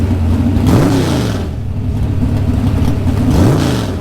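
A Geo Tracker engine revving under a pressed gas pedal at a Fourth of July racing event, loud and close, rising and falling in two swells over a steady mid-range drone.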